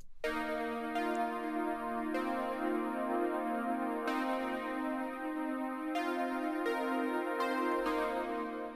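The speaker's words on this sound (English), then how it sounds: "I've used the Bit Crusher in Logic Pro" Sustained synth pad chords run through Logic Pro's Bit Crusher, with a gritty, crunchy digital edge, shifting to a new chord every couple of seconds, fairly quiet and without voices.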